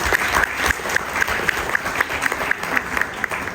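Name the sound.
audience applause for the organizing team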